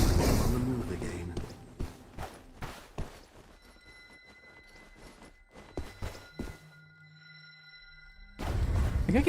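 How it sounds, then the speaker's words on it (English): Player footsteps in the game Mistfall Hunter, a series of soft, irregular steps through the middle of the clip under steady game ambience and tonal hums, with voice talk at the start and end. "I think I can hear player footsteps."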